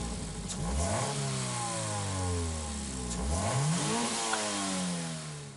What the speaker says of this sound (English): Love the sound of that engine revving.